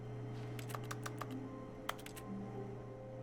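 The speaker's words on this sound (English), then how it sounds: "I guess the clicking is because he used to push buttons on a keyboard." In The Stanley Parable, a quiet run of keyboard key clicks comes in two short bursts over a low, steady hum.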